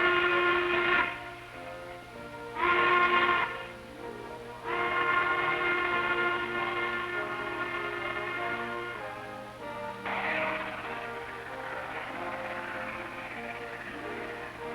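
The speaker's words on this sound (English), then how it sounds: "trains rush toward the sea with their cargoes of black diamond" A freight train hauling coal runs along the railroad, with a steady rumbling roll and several long, loud horn or whistle blasts sounding over it, no voices.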